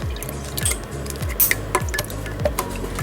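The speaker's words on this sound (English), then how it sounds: "To this, I'm going to add my tomato juice." Tomato juice squeezed and poured from a juice box into a pot already holding 1,200 millilitres of water, giving wet squishing, dripping splashes and a few light clinks, close and steady with no talk.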